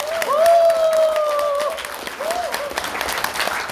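Seminar audience clapping for a staff member being thanked, fairly close and moderately loud, with a sustained tonal whine or feedback-like tone running through the first half.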